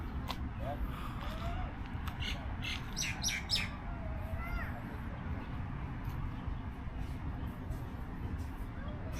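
Outdoors, a bird gives a few short high chirps and calls, fairly faint over a constant low rumble of background noise.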